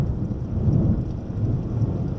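A thunderstorm with a loud, deep rolling rumble of thunder over steady rain, with no voices.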